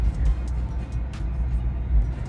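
A Tesla Cybertruck (Cyberbeast) pulling away and driving off, heard from inside as a faint, steady low rumble of road and motor noise with no distinct engine note.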